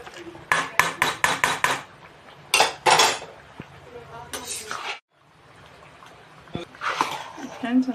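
Rice being stirred in a pot for chicken biryani, a quick run of sharp metallic clanks and scrapes, then more spaced knocks and rustles after a brief pause, close by.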